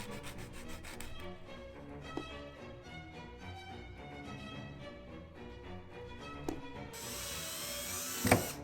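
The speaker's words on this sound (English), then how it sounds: "take a little sandpaper, wrap it around, and then just sand up and down" Sandpaper wrapped around a lightsaber hilt piece, rubbed up and down in a steady rasping rhythm, faint and close, with a few sharp knocks and a brighter scraping burst near the end.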